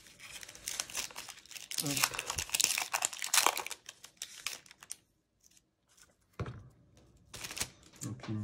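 Scissors cut open a foil trading card pack, with crinkling wrapper, snipping and tearing close up in bursts separated by brief pauses, and someone speaks briefly.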